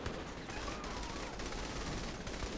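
Rapid bursts of gunfire in the video game Saints Row 3 crackle continuously, a dense, somewhat distant fusillade with faint voices mixed low beneath it.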